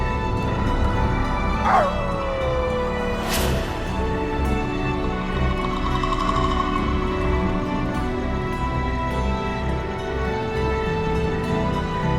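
A dog barks and whimpers in a few short, sharp outbursts near the start, then its voice trails off against a constant background drone, with no talking.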